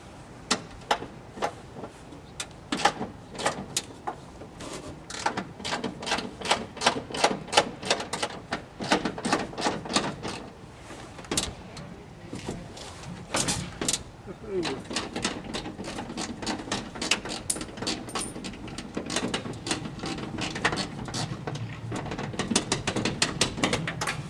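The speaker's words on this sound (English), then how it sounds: "The bolts are a 13 mil ratchet or socket" A 13 mm ratchet clicks rapidly in bursts while four bolts are backed out of a Ford Econoline front door hinge, the dense ticking close and fairly loud, pausing briefly between runs.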